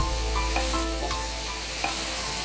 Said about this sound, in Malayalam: ഇനി ഇതിലേക്ക് നമ്മൾ ടൊമാറ്റോ, 2 വലിയ ടൊമാറ്റോ വലിയ ചതുര കഷ്ണങ്ങളായി മുറിച്ചത്.